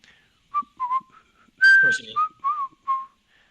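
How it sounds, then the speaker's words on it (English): A man whistles a short tune of bright, wavering notes in separate bursts, picked up by a hidden bug over near silence. "He's whistling."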